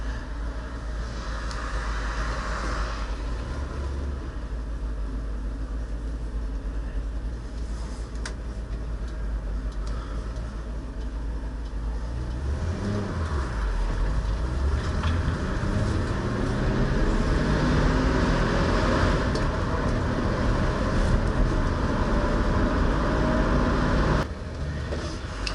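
A 1966 Ford Mustang runs with the choke still on as it drives, giving a steady engine drone with a rhythmic ticking and a shift in tone partway through, with no talk over it.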